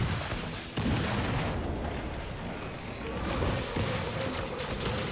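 Steady heavy gunfire while shooting enemies in a video game, a continuous rattling barrage with booming low end and brief dips, loud throughout with no talk.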